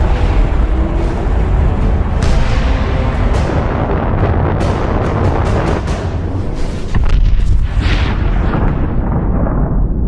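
A nuclear bomb goes off in the video game Fallout 76, a loud, sustained roaring blast with deep rumbling and scattered crackling bursts that fade toward the end.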